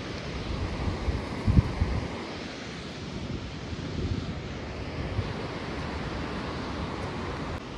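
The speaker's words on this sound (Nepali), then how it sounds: "माथि चाहिँ हिउँ परिरहेको रहेछ त्यो हिउँ पिघलेर चाहिँ पानी भएर आएको" A stream of snowmelt water rushes down a mountainside in Thangu Valley, North Sikkim, a loud continuous roar mixed with wind buffeting the microphone, with a brief thump near the start.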